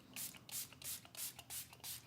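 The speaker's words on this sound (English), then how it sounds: "I'm gonna grab some setting spray" Milani Make It Last setting spray misted onto a face, five or six quick, soft, breathy spritzes in an even rhythm, close and fairly quiet, with no talk.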